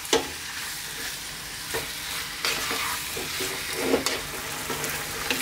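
Chicken curry frying in a pan, a steady sizzle with intermittent scraping stirs of a spoon every second or so, close and fairly loud, no voices.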